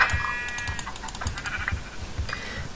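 Sheep bleat in a survival video game, a few short bleats layered with soft clicky taps like keyboard typing, at moderate volume with no talk.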